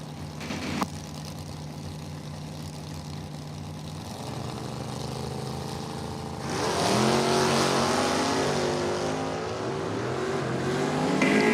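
A Chevy Blazer and a 1972 Nova launch side by side at a drag race, their engines droning loudly and then surging into a roaring, climbing acceleration that stays strong to the end.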